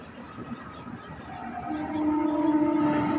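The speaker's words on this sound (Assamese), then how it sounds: "এইখন ট্ৰেইন" A Rajdhani Express train approaching, with a rising rumble and a sustained steady horn tone swelling over the last second and a half.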